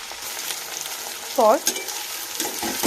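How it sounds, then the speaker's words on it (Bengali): Chilli chicken with green chillies sizzles in a pan while being stirred, a steady close frying hiss with a short squeaky scrape partway through. "দিয়ে আবারও নাড়াচাড়া করতে শুরু করে দেব।"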